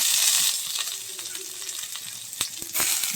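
Chopped onion fries in about a tablespoon of oil, a close, soft sizzle with a few sharp clicks of a spoon against the pan near the end.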